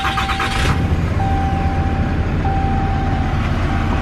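Diesel pickup truck engine running close by, a steady low, gritty rumble with a faint high tone, continuous and loud.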